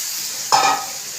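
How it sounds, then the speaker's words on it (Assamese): Masala frying in a pan makes a constant sizzle, with one short stir or scrape around the midpoint. No voices are heard. "পেলাই দি মই ভালকৈ ভাজিম। গোটেই মছলাখিনি লগালৈকে মই ভাজি ল'লোঁ।"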